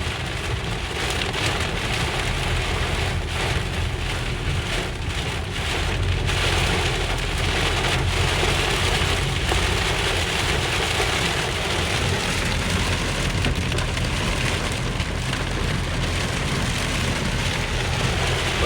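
Steady, heavy rain falls continuously at an open-air market in Chai Wan, Udon Thani, during a windy storm, a dense hiss of drops striking surfaces close by, with no voices.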